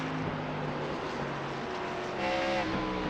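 Race cars in an Xfinity Series event at Richmond, run in a racing video game, roar steadily as a loud continuous engine drone that swells slightly near the end, with no voices.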